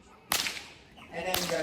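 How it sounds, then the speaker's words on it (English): Two sharp whip cracks ring out on a cattle farm where whips are used to move stock between paddocks, the first loud and sudden, the second about a second later, each with a brief ringing tail. "we do use our whips on the farm to move our cattle if we're moving them from paddock to paddock"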